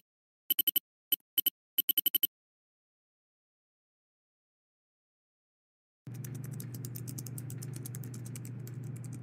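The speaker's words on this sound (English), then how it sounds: "Don't you guys just enjoy that clickety clackety from all of their keyboards?" Players type on computer keyboards during a Roblox Defusal round: three quick bursts of crisp clicking, then a pause, then a steady stream of clattering keystrokes over a low hum, with no talking.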